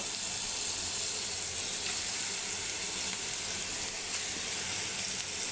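Eggplant (brinjal) slices frying in a pan give off a steady, close sizzle with a bright hiss that holds evenly throughout, with no talking.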